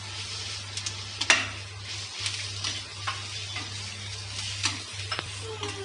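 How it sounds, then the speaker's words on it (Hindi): Fried okra being stirred into spice masala in a pan for bhindi do pyaaza, with scattered scrapes and taps of a spoon over a soft sizzle and a steady low hum. "अब हम इसे अच्छे से मिक्स करेंगे ताकि भिंडी में सारे मसाले की अच्छे से कोटिंग हो जाए।"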